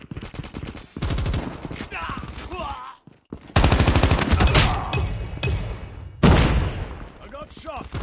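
Rapid bursts of automatic gunfire from the Call of Duty Mobile shooter game, with a color burst gun skin equipped, crackle loudly in several sustained volleys with brief gaps between them, while voiced game callouts play over the shots.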